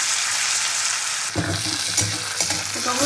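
Chopped tomatoes fry in hot ghee with a steady, bright sizzle, and after a moment a spoon begins stirring, adding soft, uneven scraping bursts close up.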